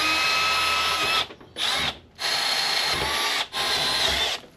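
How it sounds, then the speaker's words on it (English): A power drill whines loudly as it bores through metal on a turbocharged Honda Civic D16 engine build, drilling for an 1/8 inch NPT fitting, in several long bursts separated by brief pauses. "So I'm just gonna go ahead and get it drilled right there."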